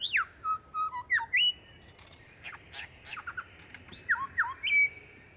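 A lyrebird mimicking other birds' calls in quick succession: sharp squawks, rising and falling whistles and chirps, loud and close, separated by short pauses.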